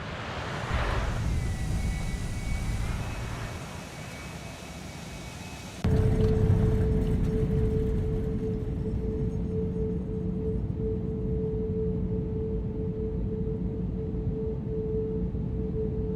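Airbus A321 with IAE jet engines in the X-Plane flight simulator, a broad continuous roar with a whining tone that steps up abruptly partway through and then holds steady and loud.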